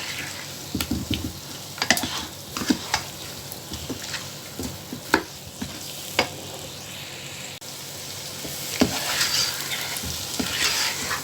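Aloo gobi, cauliflower and potato with onion, garlic, ginger and spices, cooks in a pan with continuous soft sizzling and frequent stirring scrapes, close-up and without voices.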